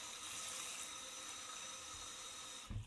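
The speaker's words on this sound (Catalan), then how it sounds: "ho cobrirem d'aigua tèbia" Lukewarm water runs steadily from a tap over prunes and pine nuts in a small bowl, a soft continuous hiss and trickle, close and fairly quiet, with no talking.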